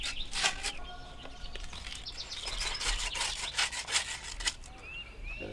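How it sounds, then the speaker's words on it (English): New copper pipe fittings are rubbed with sand cloth in quick, close, scratchy strokes that come in irregular bursts, outdoors on an AC condensing unit job, with faint birdsong in the background. "We're going to sand down this side and all the fittings real good with a piece of sand cloth."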